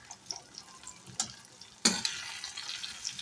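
Salt, cumin and chili powder being stir-fried for a Bengali morola fish jhaal, with soft scattered sizzling and a couple of sharp stirring clatters, one louder scrape near the middle, close by and without talk.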